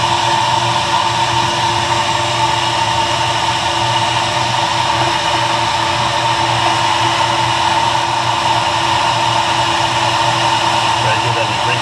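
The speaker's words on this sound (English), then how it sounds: "Okay, vacuum's coming on," A vacuum forming table and a heat gun run together while making stencils for custom crankbait fishing lures, a loud, unbroken whooshing drone that holds steady throughout.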